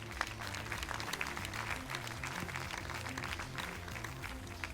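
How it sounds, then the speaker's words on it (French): An audience applauds at a closing ceremony in Saint-Jean-de-Luz, a continuous patter of clapping that stays level throughout, with low tonal sounds running steadily underneath. "Je crois que vous pouvez vous applaudir."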